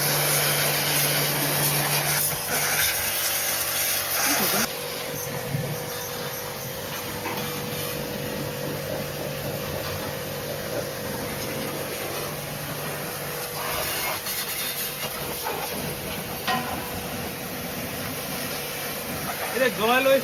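A TEXUM bike wash machine sprays a light, low-pressure stream of water, giving a steady hiss with a faint motor hum throughout, heard at moderate distance, with some talking now and then.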